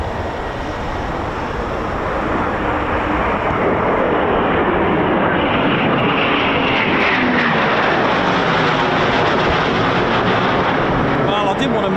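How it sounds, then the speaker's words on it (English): Eurofighter Typhoon FGR4 jet engines spool up at RAF Coningsby, a loud, steady, broadband roar that swells slightly and holds throughout, with a voice talking underneath. "I can hear more Typhoons spooling as well"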